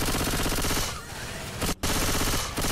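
Bursts of rapid submachine gun fire in Left 4 Dead 2 rattle loud and close, with brief pauses between them and one sharp gap near the end.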